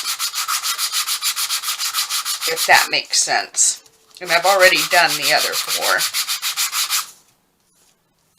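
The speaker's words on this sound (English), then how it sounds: "I just think sanding it down might help everything" Quick rhythmic scratching of sandpaper rubbing back and forth across the shiny surface of a playing card, close up, with a brief pause while a person speaks in the middle.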